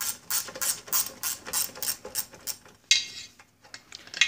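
A hand ratchet backs a bolt out of the lower unit of an Evinrude XP 175 HP outboard: a steady run of crisp, close clicks in quick strokes, a brief pause, then a few more.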